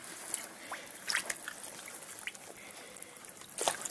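Warm water trickles over fabric as water-soluble interfacing dissolves from a velvet and lace scarf: a faint, continuous light trickle with occasional small splashes and dribbles, close and quiet, with no talking.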